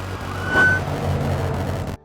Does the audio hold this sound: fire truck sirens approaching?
yes